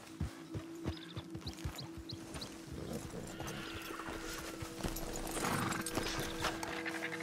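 Hooves clip-clop at a steady walking pace early on in Red Dead Redemption 2, then blend into a rising wash of outdoor ambience and movement noise.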